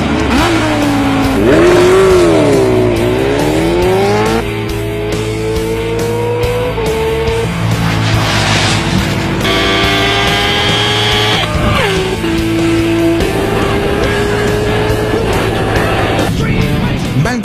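KTM Super Duke R roadster motorcycle racing against cars on a drag strip, a loud continuous engine roar climbing through the gears with shifting revs and rising pitch, close and dominant throughout.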